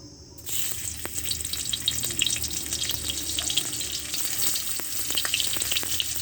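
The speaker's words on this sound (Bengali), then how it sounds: "পেঁয়াজ কুচি দিলাম।" Chopped onion sizzles and crackles in a small amount of hot oil in a pan, a steady close frying hiss with scattered pops running throughout.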